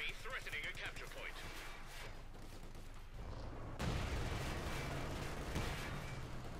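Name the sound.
machine gun fire in video game Company of Heroes 2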